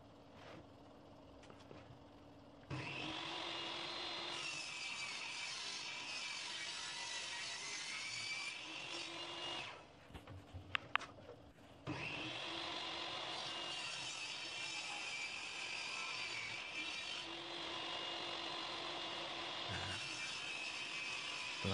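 Power saw cutting wooden pieces for a homemade minimalist TV stand, in two long, loud, steady whining cuts separated by a short pause with clunks, with no talk.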